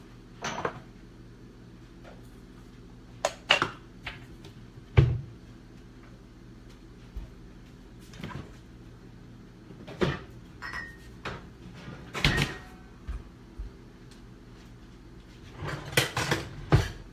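Kitchen cleanup after cooking street corn tostadas: scattered cupboard doors shutting and dishes clinking, sharp isolated knocks spread across a quiet room with low background hum, no talking.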